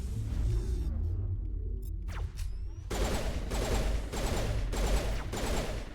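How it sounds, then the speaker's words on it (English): Gunfire in the video game Mass Effect: after a rumbling, whooshing lead-in, a series of loud, rapid bursts of shots rings out close by, repeating in short rhythmic volleys with no speech. "now I'm just gonna shoot you"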